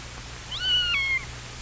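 A cat meows once, a single rising then falling call heard clearly over faint background hum, no one speaking.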